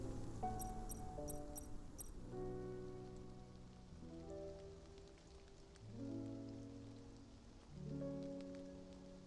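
Soft steady rain patters in the video game Love and Deepspace, faint and even, with gentle musical tones and chimes ringing over it and no talk.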